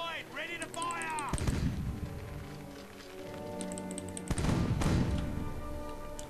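Ship cannons firing in the pirate naval game Age of Pirates 2, two heavy booming volleys a few seconds apart, each a loud blast with a rumbling tail, over music and ambient game sound.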